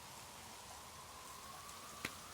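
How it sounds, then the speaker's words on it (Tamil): Rain falls as a faint, steady hiss, with a single soft tap near the end. "இப்போதைக்கு மழை விடுற மாதிரியே இல்லப்பா"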